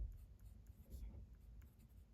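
A TWSBI Diamond fountain pen with a fine nib scratches softly across paper in a short, faint stretch of close, quiet writing strokes.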